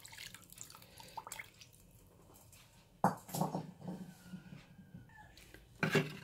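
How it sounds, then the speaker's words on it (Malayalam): Hot water is poured into a pan of masala fish curry, giving soft splashing and trickling bursts amid faint kitchen clinks, quiet and close, with no talk. "ഇനി നമുക്ക് കുറച്ചുകൂടെ ചൂടുവെള്ളം ചീനച്ചട്ടിയിൽ ഒഴിച്ചിട്ട് കലക്കി ഒഴിക്കാം."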